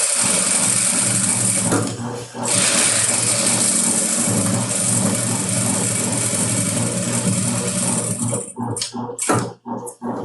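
A domestic sewing machine runs continuously while stitching crazy-patchwork fabric for a zip pouch, a steady whirring buzz for most of the stretch, then stopping and starting in short bursts near the end.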